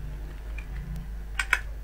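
A few soft taps on a computer keyboard while writing HTML code, quiet and close with a couple of sharper key clicks near the end, no speech.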